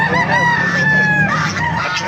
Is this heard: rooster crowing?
yes